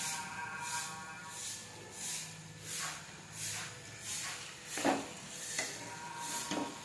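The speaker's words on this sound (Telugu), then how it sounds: "ఇది ఫ్రై అయ్యేలోపు ఆలు తోలు తీసి పెట్టిన ఆ ముక్కలు కూడా వేసుకుందాం" Potato pieces and soaked dried chillies fry in a pan with a steady sizzle, stirred in an even rhythm that makes regular swelling scrapes, close by with no talk.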